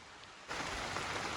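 Steady rain falls during a predator-fishing trip, a dense, even hiss of drops striking surfaces that starts abruptly and stays loud and constant without pause.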